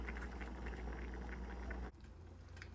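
Rice with pigeon peas simmers in a pot, a soft continuous bubbling that cuts off abruptly partway through, leaving a faint quiet hiss.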